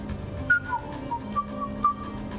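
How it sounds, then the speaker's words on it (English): A character in the video game Mass Effect 3 whistles a short, wandering tune of several rising and falling notes, fairly faint over a low background hum. "Are you whistling?"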